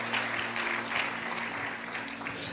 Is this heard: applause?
yes